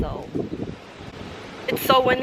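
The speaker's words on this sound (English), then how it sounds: "It's so windy," Gusty wind buffets an outdoor microphone with low rumbling bursts, and a voice speaks over the roar toward the end.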